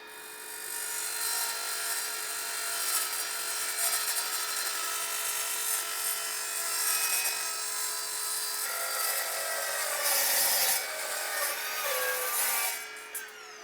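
A cordless miter saw cuts through a 2 by 2 inch, 1/8 inch mild steel angle. It is a steady, loud, continuous grinding and rasping whine held for about thirteen seconds, then winding down near the end.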